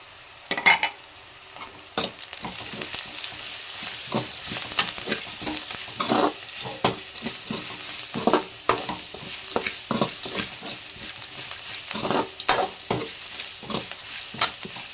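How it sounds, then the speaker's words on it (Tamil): Food sautéing in a pan after a ground paste of dried red chillies, garlic and coconut goes in, a steady close sizzle broken by repeated scraping stirs of a spatula, with no talking. "இது நல்லா வதங்கிக்கணும்."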